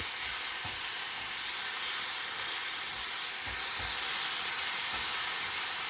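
Swedish meatballs sizzle and spit in an overheated frying pan, a loud steady hiss of frying with a few faint knocks underneath and no talking.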